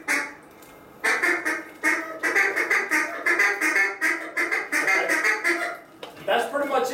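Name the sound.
duck call blown to imitate hen duck quacks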